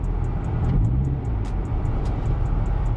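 A Toyota Corolla Lovelife with power steering drives along, its engine giving a steady close-up hum over road noise and faint repeated ticking, with no one talking.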